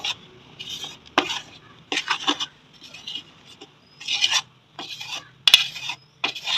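Raw prawns are tossed with spices in a bowl by hand, making short bursts of wet squelching and scraping. The bursts are separated by brief pauses, and a few sharper clinks of the bowl are heard.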